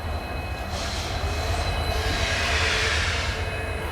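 A coal-carrying freight train rumbles steadily past nearby at a station, a continuous heavy roll of wagons with wind-like hiss and faint metallic squeal throughout.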